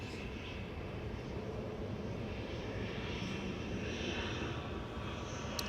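An Airbus A320neo airliner rolling out after touchdown on runway 23 right at Manchester Airport, a steady, fairly distant engine roar with a broad rumble that holds evenly and stays fairly faint throughout.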